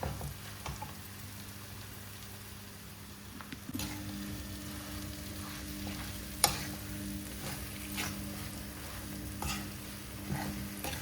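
A spoon scrapes and stirs a potato mixture in a pan, with soft sizzling underneath and occasional sharper clacks against the metal.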